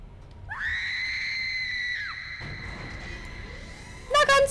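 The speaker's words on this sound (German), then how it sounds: "Der Schrei musste jetzt noch sein" A shrill, drawn-out monster scream from the sci-fi horror video game Dead Space rises loudly and holds for about a second and a half, then fades into low eerie ambience before a brief burst of harsh noise at the end.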